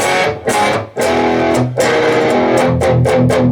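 Electric guitar with effects and distortion plays the opening section of a song, a series of strummed chords with brief choked gaps between them, loud and close with no voice.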